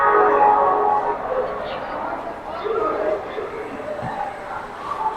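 SMVT Bengaluru SF Express pulls out of the station, a low rumble under nearby conversation and platform hubbub, with a faint horn-like tone far off.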